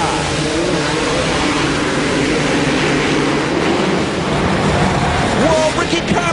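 Several supercross motorcycles rev together at the start gate of an indoor AMA Supercross main event in Indianapolis, a dense continuous roar with a wavering high-pitched whine, loud and steady throughout, with crowd noise mixed in.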